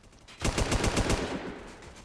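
Burst of machine gun fire in a multiplayer roleplay game, a rapid string of about eight loud, close shots lasting under a second, then trailing off.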